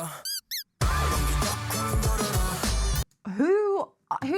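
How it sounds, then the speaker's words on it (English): Squeaky toy squeaks dropped into a K-pop song, two short high squeaks at the start, then a dense stretch of music, followed by a person reacting with expressive vocal sounds. "Whose idea was it to include like a squeaky toy squeak in there?"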